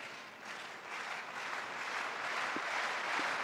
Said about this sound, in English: The home crowd here, clapping, trying to win there.